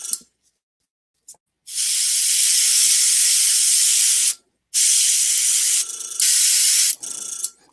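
An airbrush sprays Vallejo Model Air paint in loud, close bursts of airy hiss: a short puff, then a long steady spray and two more sustained blasts separated by brief pauses.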